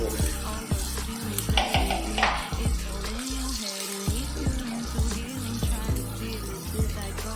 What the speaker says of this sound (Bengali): উল্টে দিলে দু পাঁচ ভালোভাবে ভাজাটা হয়ে যাবে